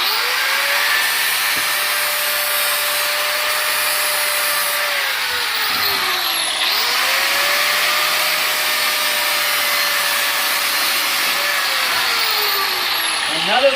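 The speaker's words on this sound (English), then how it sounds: "that is how you sharpen lawnmower blade." A power grinder runs steadily at close range while sharpening a lawn mower blade, its whine dipping in pitch under load as the blade is pressed against it, then rising again.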